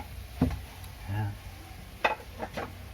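A spoon scrapes and knocks against a pot of pork caldereta with softened potatoes and tomatoes, a few separate stirring clatters over a low simmer, close by and soft, with a voice murmuring briefly.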